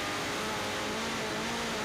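TVR Tuscan race cars power uphill at the Oulton Park circuit, a steady engine drone with a sustained tone, heard faintly in the distance with no talk.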